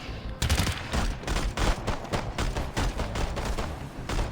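An MP5 submachine gun fires in rapid, dense bursts in the alien-horde shooter EarthFall on Nintendo Switch, loud and close, with a steady rattling rhythm of shots after a short quiet start.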